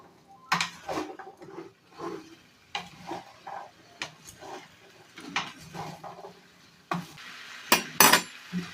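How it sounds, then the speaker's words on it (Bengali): Vegetables with spices stirred in a pan over low flame for a cauliflower, carrot and tomato posto dish, a series of close, irregular scrapes and clinks of a spatula against the pan over a faint sizzle. "এবার নেড়ে দিতে হবে।"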